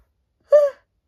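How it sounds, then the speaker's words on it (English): One person yawns once up close, a short drawn-out voiced breath that rises and then fades, with silence before and after. "Again with the yawning."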